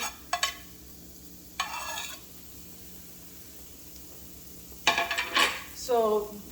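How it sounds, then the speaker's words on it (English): Onions stirred in a pan on the way to golden brown for a kadai paneer gravy with garlic, ginger and green chilies: a few short scraping, clattering bursts separated by quiet gaps, close and moderately loud. "I'm going to stir it again until it becomes golden brown"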